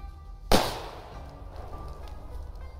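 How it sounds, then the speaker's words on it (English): A ninja smoke grenade from the game Apex Legends goes off with one sharp, loud pop, then a brief hissing burst that fades into a low, steady rumble. "So here is my ninja smoke grenade with the pull reignition system."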